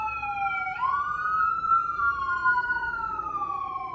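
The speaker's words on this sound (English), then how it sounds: "Sirens." A siren wails nearby, a rising then steady two-tone whine sweeping smoothly over a faint background rumble.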